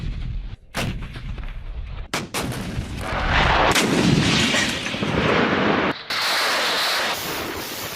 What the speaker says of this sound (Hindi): मल्टी रॉकेट लॉन्चर और तोपों की गर्जना सुनाई दे रही है